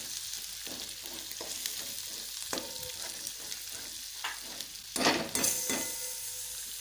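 Spice pastes for kaju curry sizzle quietly in a pan while being stirred, with soft scraping strokes and a brief louder clatter near the end.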